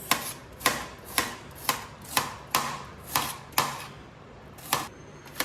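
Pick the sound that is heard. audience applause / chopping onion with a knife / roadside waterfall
chopping onion with a knife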